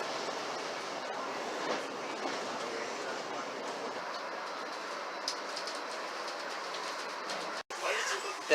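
A South Shore Line electric train rolls along its rails with a steady, moderate rumble and faint clicking, heard from inside the car, with a sharp jolt near the end.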